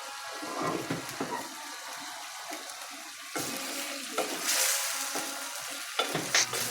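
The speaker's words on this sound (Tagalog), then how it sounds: "kumukulo na nga po siya at halukayin na naman natin" Wet bubbling and sizzling from a pot of boiling pork with scraping stir sounds, steady and close, with a few louder clanks toward the end.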